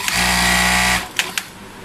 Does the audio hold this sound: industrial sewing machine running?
yes